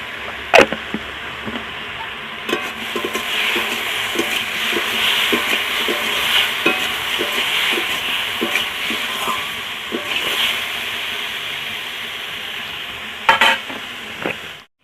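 Pumpkin fries in oil with chilli powder, giving off a soft, steady hiss, while a utensil taps and scrapes the pan at regular intervals up close, with a few sharper knocks and no voices.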